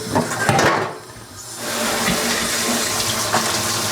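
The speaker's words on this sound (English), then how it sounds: "I've got a colander here. Let the cold water go." Cold tap water runs steadily over potatoes in a colander in a home kitchen, a close, continuous splashing rush with a brief dip in flow partway through.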